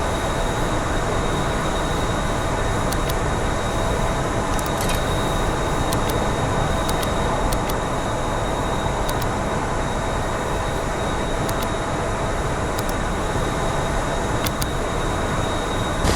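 Twin jet engines of an F-14B Tomcat idle steadily aboard a carrier deck in DCS World, a loud, constant roaring whine with faint periodic clicks, and no talking.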